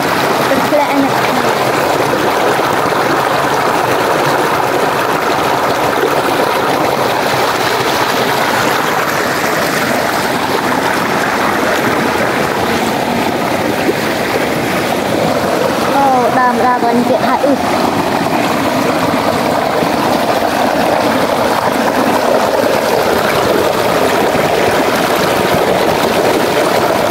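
Water rushing down a mountain forest waterfall and stream, a steady broad wash running continuously and loud close by, with faint voices and splashes now and then.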